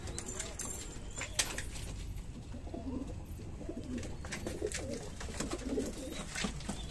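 Rampuri highflyer pigeons coo in soft, repeated low calls from a loft, close by and layered with scattered rustling and background voices.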